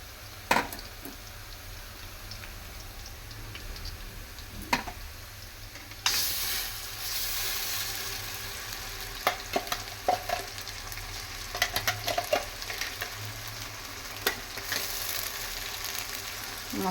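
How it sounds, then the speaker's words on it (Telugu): Ground masala sizzles and fries steadily in a pan for a home-style fish curry, with a loud continuous hiss, occasional spoon taps and stirring scrapes, and a brief louder surge midway. "ఇది బాగా వేయించుకోవాలి మసాలా"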